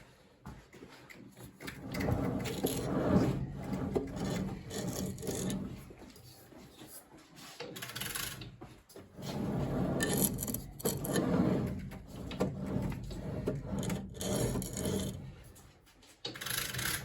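Grinding stone regrinding a Follows and Bate mower blade, making a gritty rasping grind that swells and fades in repeated passes at moderate volume, with quieter gaps between.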